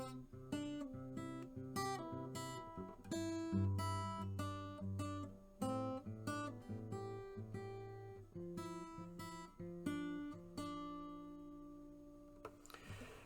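Acoustic guitar playing a song, a steady run of plucked and strummed chords with ringing sustained notes, played alone with no talking and fading at the end.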